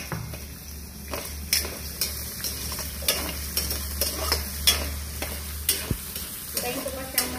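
Ongoing scrapes of a stirring utensil through string beans frying in oil in a pan, each stroke clear against a constant close sizzle, with no voices heard.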